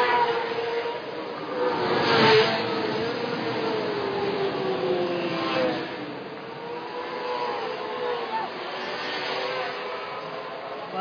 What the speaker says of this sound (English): this is the standard 4-stroke 250cc event at the Colombo Night Race